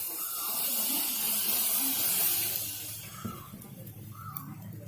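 Rose water poured over hot, burnt coconut shells sends up a loud steamy hiss that gradually eases into softer crackling.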